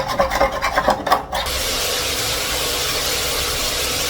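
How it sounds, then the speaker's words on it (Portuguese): A roasting pan is scraped in a few short rasping strokes, then a steady loud hiss of a lit burner or sizzling pan continues to the end, with no voices. "Raspar a assadeira e levar essa iguaria para dentro do fundo."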